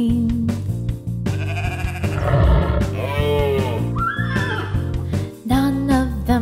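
A cartoonish sheep bleats in a children's song about a very cranky bear, with wavering bleats over steady loud music, as other animal-like cries of a horse and a roaring lion pass through the track.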